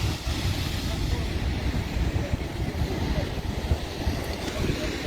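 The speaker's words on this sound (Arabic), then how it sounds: "راه كيضرب واحد الامواج يقدروا يوصلوا حتى لعندك ويجروك للبحر" Sea waves crash on the shore beside a road in Rabat, heard as a loud, continuous roar of surf mixed with heavy wind buffeting the microphone.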